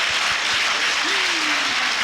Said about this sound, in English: Now, you're supposed to clap or something for that.